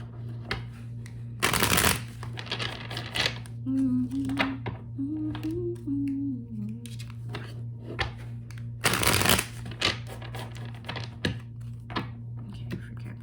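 Tarot cards handled and shuffled, with two loud bursts of riffling and a scatter of clicking taps close by, a low steady hum underneath and a soft voice murmuring between.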